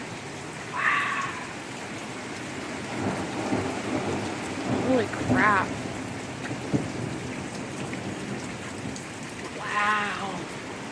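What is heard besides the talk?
thunderstorm with heavy rain and deep thunder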